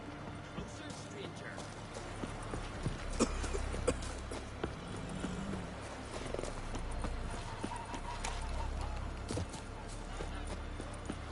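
Roach, a horse in The Witcher 3: Wild Hunt, trots with steady clip-clop hoofbeats across the ground, a regular rhythm over game ambience while a voice talks.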